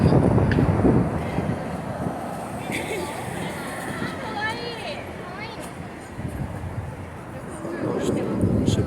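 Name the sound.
wind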